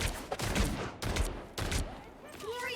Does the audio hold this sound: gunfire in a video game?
yes